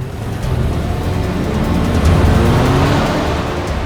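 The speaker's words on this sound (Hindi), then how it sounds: "अभी अभी व्हाइट कलर की एक गाड़ी एम्बेसडर यू टर्न करके निकल गई है" A white Ambassador car makes a U-turn on the road and drives off, its engine loud and close in a continuous throaty drone that rises slightly midway, with no voices.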